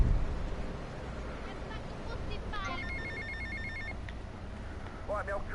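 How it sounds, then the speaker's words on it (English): A phone rings in GTA Vice City as repeated electronic trill bursts over game background noise, with voices speaking around it. "His phone should be ringing any minute now."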